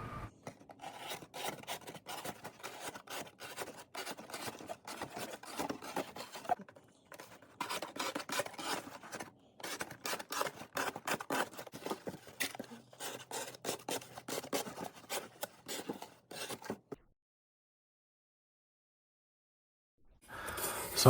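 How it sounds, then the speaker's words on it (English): An S90V steel knife (Sage 6) slices cardboard into strips with a steady run of close, dry rasping strokes. The cutting breaks off into a few seconds of silence before resuming. "So I just keep cutting this cardboard up into little strips."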